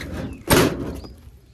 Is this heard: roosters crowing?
no